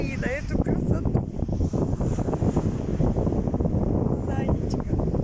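Strong wind buffets the microphone at a sea beach while waves wash in underneath, a loud continuous rumbling roar with a voice talking over it.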